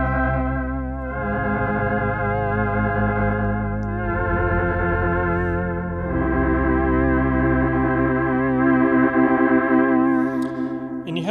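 A Polymoog 280A synthesizer plays its Vox Humana preset through fixed filter banks, giving a sustained, rich chordal drone with a slowly shifting tone and gentle chorus-like warble, steady and loud throughout with no talking.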